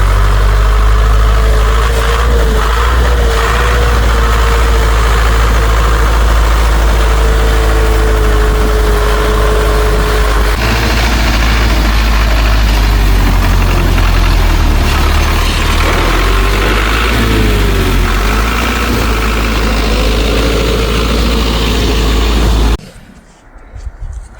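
A newly bought farm tractor's engine idling close by, a loud, steady low chugging that runs unbroken for over twenty seconds before cutting off abruptly.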